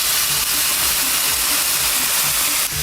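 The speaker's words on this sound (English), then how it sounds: "I like to add a little bit of water just to help it steam" Broccolini hisses loudly in a pan just after water is added, a dense, constant sizzling steam that stays close and even throughout, with no voices.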